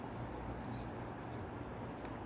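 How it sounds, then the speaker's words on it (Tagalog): Birds chirp and call in a short sweeping run above steady low ambient rumble beside a railway in Goyang-si, Gyeonggi province, faint and fairly distant with no talking. "May ibon. Daming ibon."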